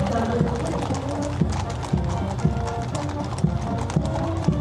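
Horses of a mounted horse cavalry regiment clip-clop along a Republic Day parade route, steady hoof beats under a voice talking over loud crowd and band noise.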